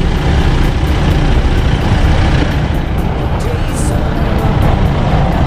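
Road traffic jam in the Philippines, with vehicles packed close together giving a steady, loud rumble of engines and road noise that never lets up.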